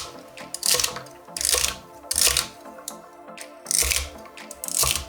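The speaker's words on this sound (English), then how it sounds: "we want to cut these into just about 1-inch sections" A knife chops trimmed green onions into inch-long sections on a cutting board, with a series of quick, close, sharp taps arriving in clustered bursts separated by brief pauses.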